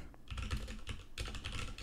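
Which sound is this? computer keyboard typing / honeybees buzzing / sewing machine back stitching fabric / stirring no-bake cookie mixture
computer keyboard typing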